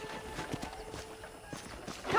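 Horse hooves in Red Dead Redemption, a few faint, uneven clip-clop thuds at a walking pace on a quiet ranch, with a slight rise in noise at the end.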